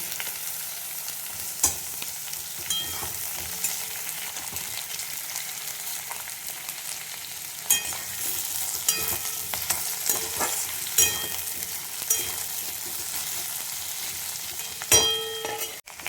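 Thinly sliced large potatoes fry in a pan for a puti fish curry, a steady sizzle broken by the scrape and clack of stirring at scattered moments, with no talk.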